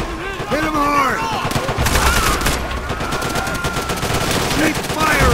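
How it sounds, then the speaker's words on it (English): Machine gun and rifle fire in Call of Duty: World at War during a battle with a banzai charge, a loud continuous rattle of bursts mixed with soldiers shouting over the shooting. "Keep firing!"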